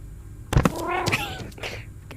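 Cat meowing in the VR game I Am Cat, a single close meow with a sharp thump just before it and faint sounds trailing after.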